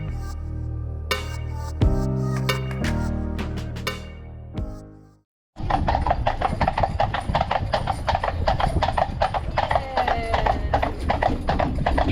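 Horse hooves clip-clopping as a horse-drawn carriage travels toward a castle, a brisk, steady rhythm of sharp close hoofbeats following a stretch of music and a brief silence.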